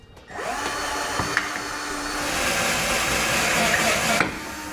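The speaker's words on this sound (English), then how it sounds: "you can use a step bit, and that's what I'm gonna use" A power drill with a step bit whines steadily for several seconds as it bores through a metal trailer hitch, then stops abruptly.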